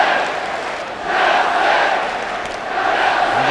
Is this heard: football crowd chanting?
yes